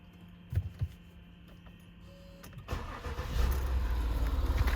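A Citroën 2.7-litre V6 HDi diesel engine cranks and fires after a fuel filter replacement and purge, catching quickly and settling into a steady, fairly quiet running hum after a few faint clicks.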